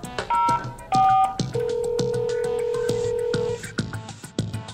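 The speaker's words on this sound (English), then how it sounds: "From here you can dial a number to place a call." Keypad dialing on a Fluke Networks TS54 TDR test set, a quick run of loud, clean DTMF tone bursts with a steady held tone in the middle, each keypress marked by a click.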